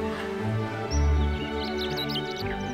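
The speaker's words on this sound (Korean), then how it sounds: "새소리 정겨운" Small birds chirping on a mountainside slope in spring near Namhae, faint high twitters scattered over a steady low rumble, with no talking.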